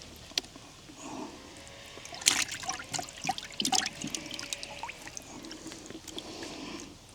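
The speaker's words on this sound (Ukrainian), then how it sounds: "набираємо водичку для нашого карася" Water scooped up and poured into a container for keeping crucian carp at an autumn reedy fishing spot, with splashing and trickling bursts at moderate distance and quiet pauses between them.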